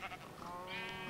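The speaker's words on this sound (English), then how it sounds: "These sheep should totally give us mutton." Sheep bleat in the Minecraft video game, a couple of short nasal calls heard close and clear over a low background hum, with no talking over them.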